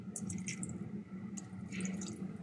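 Water poured in a steady, even stream into a pot of Ilonggo-style paksiw na bisugo fish, with a low hum underneath and faint, scattered high splashes throughout.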